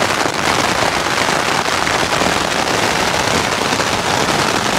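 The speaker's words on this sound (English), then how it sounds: "it's just started to rain." Rain drumming on an ultralight tent while wild camping in stormy weather, a loud, dense, continuous patter of drops on the fabric with no talk.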